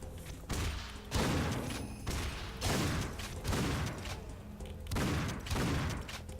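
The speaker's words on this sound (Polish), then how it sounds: "alternatywny strzał, to lubię." Heavy alternate-fire gunfire in the video game Painkiller: Hell & Damnation booms out in about six separate blasts, spaced roughly a second apart, each punchy and loud with a short decay.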